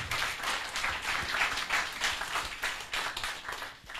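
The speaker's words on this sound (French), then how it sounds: "Applaudissements pour Smarty." Audience applauding a speaker as he is introduced, a steady, even round of clapping from a moderate crowd, continuing throughout at a fairly quiet level with no voices.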